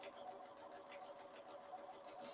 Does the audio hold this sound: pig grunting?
no